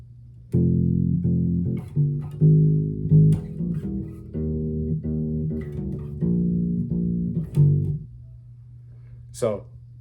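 A bass guitar plays a short riff of sustained, repeated low notes that shift pitch, ending in a brief slide; no talking is heard.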